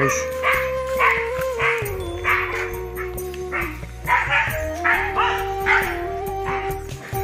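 A dog barks in repeated sharp bursts, close and fairly loud, over a steady tonal background, near a farm where buffalo are readied for fighting.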